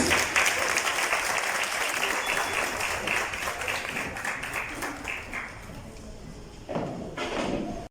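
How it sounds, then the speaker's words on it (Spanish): An audience applauds a youth indigenous folk ballet group at an artisan runway event, dense sustained clapping that gradually thins, then swells again near the end. "lo recibimos con un fuerte aplauso"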